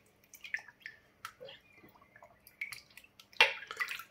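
Water rinsing black powder gun parts after cleaning in an ultrasonic tank. Faint drips and small splashes come close at first, then a louder burst of running water near the end, with no talking.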